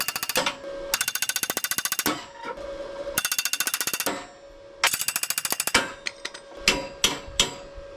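Rapid bursts of metallic hammering on a 1969 CJ5 Jeep's safari rack ring out up close, several loud runs of fast blows followed by a few slower, separate strikes.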